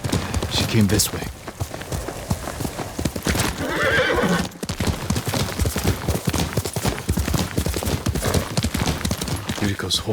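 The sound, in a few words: horse neighing and hooves in video game Ghost of Tsushima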